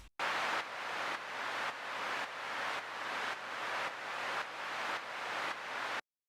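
A sidechained noise track from a dream pop production plays alone: a broad, hissing wash that swells and ducks in a steady pumping rhythm roughly every half second, then cuts off abruptly.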